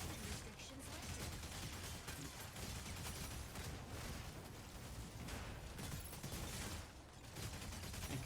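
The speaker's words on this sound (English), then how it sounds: "Attack with energy autocannon." Energy autocannon blasting away in a mecha video game, a steady, dense stream of rapid shots and mechanical clatter held at an even level throughout, with faint voices beneath.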